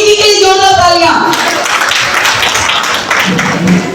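Audience at a Karva Chauth community gathering bursts into applause for Praveen ji, a loud, dense wash of clapping right after an announcer's voice that fades under it.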